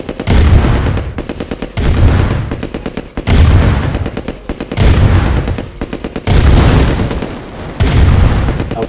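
Loud, dense gunfire and explosions in C&C Red Alert, with repeated rattling bursts and heavy booms that come in waves several seconds apart, close and continuous, with no voices.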